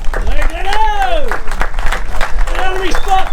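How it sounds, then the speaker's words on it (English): A crowd at a Hobie sailing regatta prize presentation in Woy Woy gives a loud, sustained round of applause, mixed with shouts and cheering voices close by. "Ladies and gentlemen, one more time, type a massive round of applause, please, for Glenn Allen."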